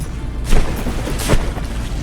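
Warship cannon volleys and explosions in the From The Depths naval battle game, two dull booming blasts about three quarters of a second apart over a constant rumbling background, moderately loud.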